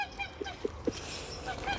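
Brahma hens and a rooster in an outdoor pen, with a few short honking, goose-like calls spaced about a quarter second apart, fairly close, over a hissy background.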